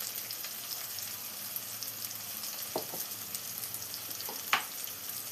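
Tomato masala for fish peera fries in a pan with a soft, steady sizzle close by, plus a few faint scrapes and one brief louder clink near the end, with no voices.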